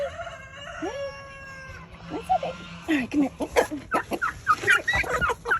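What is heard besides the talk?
aggressive rooster crowing and clucking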